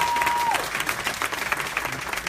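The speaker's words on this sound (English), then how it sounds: "I think that deserves a bigger round of applause." A dense round of applause from an audience at a financial empowerment event in Atlanta, steady and fairly close, with a brief tone at the start.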